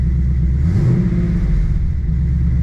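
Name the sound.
supercharged Lexus ISF engine running at idle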